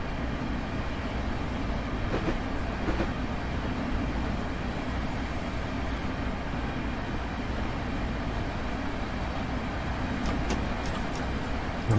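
A train runs on the Chatham Main Line between London and Dover in Train Sim World 2022, giving a constant rolling rumble with a steady broadband hiss and a few faint clicks from the wheels, sustained and even, with no talking.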